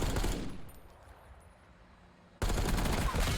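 Bursts of rapid gunfire in a first-person shooter game, loud at the start, fading to a quiet stretch, then a sudden loud burst of shooting at the end.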